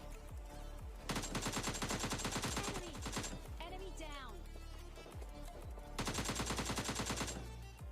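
Rapid automatic gunfire rattles in two loud sustained bursts as a bot is taken down in a battle royale game, with game sounds between the bursts and someone talking over the action.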